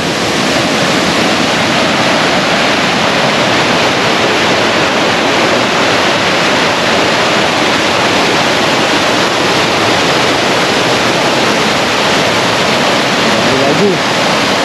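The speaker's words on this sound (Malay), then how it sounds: "Oh, ni macam kepala air turun tu" A loud, steady roar of rushing floodwater from a sudden surge after heavy rain fills the whole stretch, dense and unbroken like a torrent pouring past nearby.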